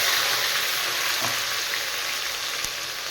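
Two medium onions ground to a paste sizzle and fry in a hot pan, a steady broadband crackle holding level throughout, with a faint stir or clink partway through and no talking.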